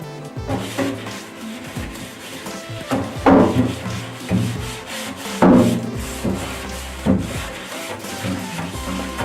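Dishes are scrubbed by hand with walnut shell powder as a natural abrasive, making repeated close rubbing and scraping strokes in uneven bursts, with occasional louder gritty scrubs and knocks.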